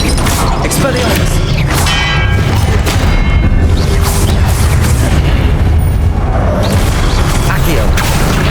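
Spell effects from Hogwarts Legacy, casting Accio, Incendio and Expelliarmus, burst out as repeated loud booms, crashes and magical whooshes, dense and close, with a voice calling spell names over them.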